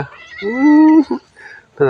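A cat meows up close, a long drawn-out cry followed by a short chirp, then another meow begins at the end, heard alone and loud.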